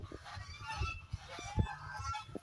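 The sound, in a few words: domestic ducks calling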